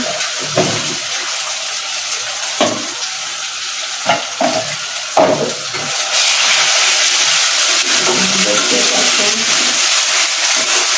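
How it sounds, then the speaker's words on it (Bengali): Spices and ginger garlic paste for a chicken curry are stirred in a frying pan, with rhythmic scraping strokes over sizzling for several seconds before a loud, steady hiss takes over. "এখন আস্তে আস্তে সব মশলা মিক্স করবো"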